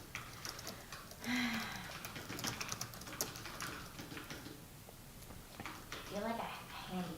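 Typing on a computer keyboard that is missing some letters, heard as a steady run of light clicks and taps during strategy game play, underneath ongoing talk.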